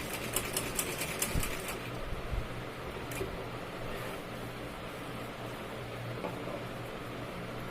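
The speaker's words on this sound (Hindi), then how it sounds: "देखिए ऐसे जॉइंट में आपको सिलाई लगानी है।" Sewing machine stitching the joint of a button-placket blouse seam, a steady, fairly quiet mechanical whirr with faint rapid ticking that runs on continuously.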